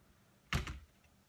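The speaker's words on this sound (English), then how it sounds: "You can check by closing the door" A front door with a stiff deadbolt swings shut in one soft, close thunk with a quick rattle right after, then quiet.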